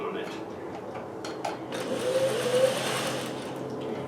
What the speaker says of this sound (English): So that's why today I'm going to be chain stitching on it.